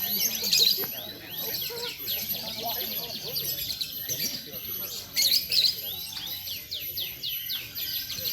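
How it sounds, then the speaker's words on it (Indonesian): Canaries at a national canary song competition trill and chirp in bright repeated phrases, several birds overlapping, while an announcer talks over a public address system. "persiapan konser untuk Kenari A"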